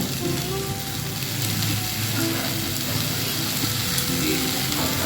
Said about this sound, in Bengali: ধনে পাতাকে একটু ভেজে নিয়ে একটু ভেজে নিলাম।